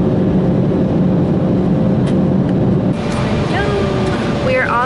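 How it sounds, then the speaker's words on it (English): Steady roar of an airplane cabin in flight on approach to San Francisco over the ocean, a constant broadband engine drone with faint people talking in the background. "We are on the plane, about to touch down in San Francisco."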